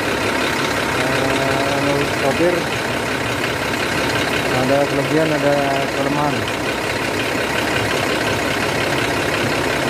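A large bus diesel engine idles steadily with a loud, constant rumble while people talk over it.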